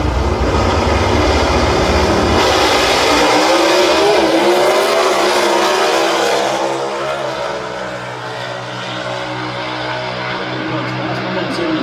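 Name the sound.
Liberty drag racing car launching down the dragway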